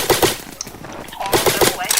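Rapid bursts of airsoft gunfire in a Roblox match, sharp clustered pops in two quick volleys separated by a brief lull, with a player's voice speaking underneath.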